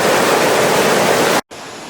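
Dense, roaring rush of a waterfall in the Dominican Republic, loud and constant, cutting out briefly near the end before resuming.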